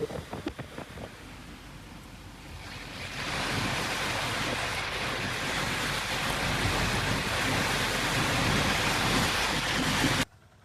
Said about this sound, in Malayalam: അത്യാവശ്യം നല്ല മഴ.